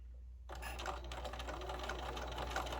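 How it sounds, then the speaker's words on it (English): A sewing machine runs steadily, stitching a quilted pocket potholder made from an old towel. The fast, even needle clatter starts after a short pause, is close and fairly quiet, and has no talking. "we're going to then sew this in place."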